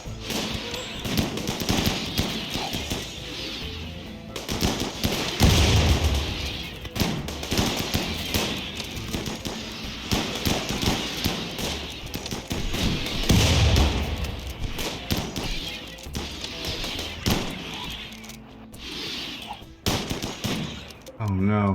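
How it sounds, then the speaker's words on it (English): Grenade blast and bursts of gunfire in a RimWorld battle, rapid sharp pops and thuds scattered across the clip, fairly loud, with a voice talking over parts of it. "Oh no, he threw a grenade right by Zach and Militars."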